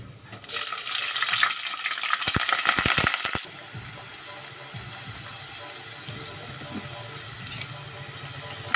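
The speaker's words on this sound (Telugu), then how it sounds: "తర్వాత ఉల్లిపాయలు పచ్చిమిరపకాయలు కరివేపాకు వేసుకోవాలండి" Onions, green chillies and curry leaves hit hot oil with cumin in a pan, bursting into a loud, hissing sizzle for about three seconds before settling into a much quieter, steady fry.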